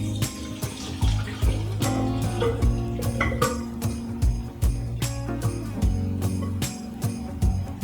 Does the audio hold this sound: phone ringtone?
no